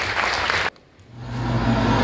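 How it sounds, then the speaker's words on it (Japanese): An audience at the Japan Action Sports Awards 2019 ceremony claps loudly and densely. The applause cuts off abruptly, leaving a brief near-silence and then a low, swelling rumble. "大きな拍手をお願いいたします"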